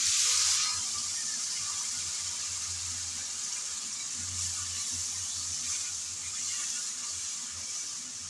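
Ground spices sizzle in hot oil in a pan on low flame while being stirred, a steady close frying hiss that starts with a brief sharper burst and then continues evenly.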